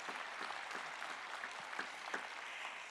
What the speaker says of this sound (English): Yes, you can applaud for each other.